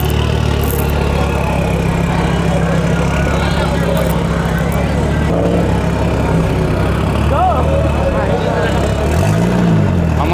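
A modified car with a single exhaust idles loud and close at a car meet, a continuous low engine drone with small rises in revs, while people talk nearby.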